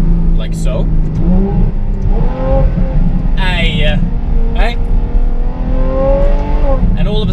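Ferrari F12 engine revving as it accelerates hard on the road, a loud, rising mechanical roar with pitch sweeps as it climbs through gears, heard close from inside the car while someone talks over it.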